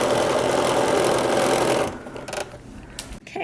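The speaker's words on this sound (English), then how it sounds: "we're going to sew right up to where we stopped stitching before" A sewing machine runs steadily as it stitches a garment neckline for a Simplicity 8912 pattern, a dense continuous whir for about two seconds before it stops, leaving quieter handling noises.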